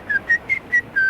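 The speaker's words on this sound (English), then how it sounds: "All you have to do is whistle." Someone whistles clearly and up close: four short, evenly spaced notes at a similar pitch, then a longer held final note, with no talking.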